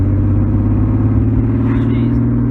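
A Triumph TR6 engine with newly fitted fuel lines idles steadily and close by, a deep continuous rumble with a smooth, even note throughout.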